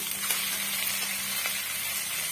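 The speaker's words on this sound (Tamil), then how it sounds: "இந்த ஸ்டேஜில் நம்ம வாஷ் பண்ணி வச்சிருக்க சிக்கன் பீஸுகளை சேர்த்துக்கலாம்" Small washed chicken pieces for a Chettinad chicken gravy go into a pan of sizzling onions, a steady close frying hiss throughout with no talk.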